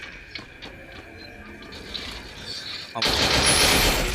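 Video game gunfire erupts as a dense, loud burst of rapid shots near the end, after a stretch of quieter game sounds.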